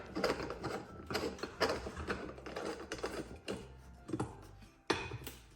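A porcelain nut is turned onto a light fixture's threaded rod, making a close series of small ratcheting clicks and scraping rasps in uneven bursts, ending with a sharper click.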